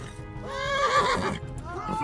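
A horse whinnies in the medieval video game Kingdom Come Deliverance, a rising then falling neigh during a chase, with faint hoofbeats and game audio behind it.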